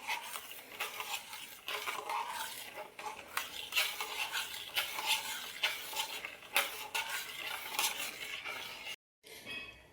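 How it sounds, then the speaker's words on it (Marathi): Sugar being stirred into rice kheer in a pot, with a spoon scraping and clinking against the metal in a continuous close rhythm over a faint simmer, briefly cutting out near the end. "आता याला छान मिक्स करून घेऊया."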